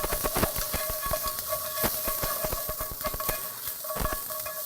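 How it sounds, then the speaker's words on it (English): Garlic and ginger sizzle steadily in a very hot pan, a constant hiss broken by sharp clicks and scrapes of stirring, close and clear with no voices. "Now I just heat up just a tiny little bit the garlic."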